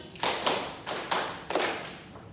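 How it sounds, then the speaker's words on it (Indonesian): A classroom group claps five times together on cue, a run of sharp, fairly close claps with short gaps between them, heard alone without talk. "tepuk 5 kali"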